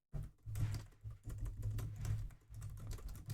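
Rust code being typed on a computer keyboard, a close, quick, uneven patter of key presses with brief pauses between bursts.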